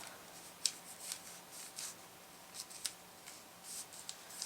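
Quiet, close snips and soft rustles as paper is trimmed for a mini album, a run of small scissor cuts and paper handling spaced irregularly.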